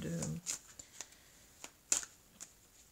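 A deck of oracle cards is shuffled and cut by hand, giving a brief riffle at the start followed by scattered soft slaps and flicks of cards, close and quiet.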